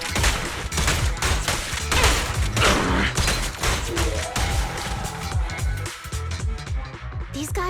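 Rapid bursts of gunfire from the video game Zenless Zone Zero crackle steadily and loudly across the whole stretch, dense volleys packed over a busy game soundtrack.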